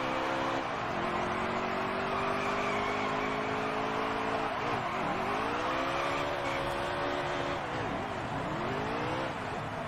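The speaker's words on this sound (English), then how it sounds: "Note to self, I suck at burnouts, and I think I got myself stuck." A stock car in the NASCAR Heat 3 racing game doing a burnout, with a loud sustained engine drone that rises and dips in pitch under a continuous hiss of spinning tires.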